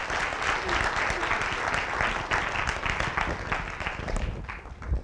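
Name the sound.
audience applause at symposium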